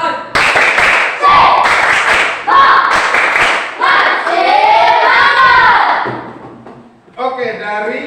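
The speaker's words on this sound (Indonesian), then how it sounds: "Tepuk semangat." A class of schoolchildren does a rhythmic spirit clap, sharp group claps in short patterned bursts with loud chanting voices between and over them, close and energetic.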